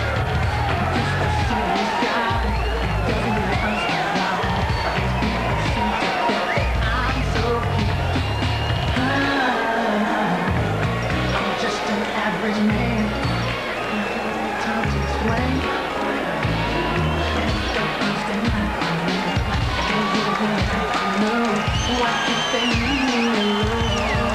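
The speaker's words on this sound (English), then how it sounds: "Mixed reaction for Holyfield." An arena crowd at a heavyweight boxing match reacts as Evander Holyfield enters, a dense continuous roar of yells, whoops and murmurs, with some faint booing mixed in, sustained at a high level throughout.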